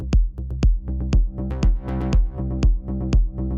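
Electronic bass line shaped by a ducker, pumping in time with a punchy kick drum from a rhythm-production instrument engine, giving about seven loud, regular thumps with the sustained bass swelling between them.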